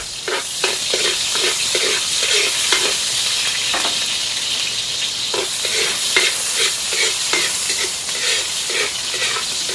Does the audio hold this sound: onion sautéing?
yes